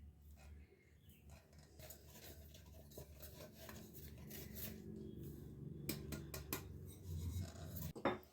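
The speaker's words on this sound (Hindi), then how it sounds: "अब इसको डाल देते हैं मिक्सिंग बाउल में" Ground semolina, sugar and cardamom powder tipped and scraped into a mixing bowl, with soft rustling, rubbing and light metallic clinks of a spoon against the bowl, growing a little louder toward the end.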